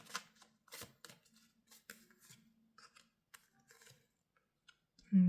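Playing cards shuffled and then set down, making a quiet, close series of soft riffling clicks and light slaps in an irregular rhythm.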